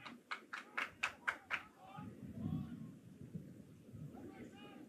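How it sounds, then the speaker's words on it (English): Fans in the gallery at a men's national championship lacrosse game clap seven times in a quick, steady burst, followed by a low rumbling crowd murmur and faint voices. "In case you couldn't hear the claps in the gallery near us"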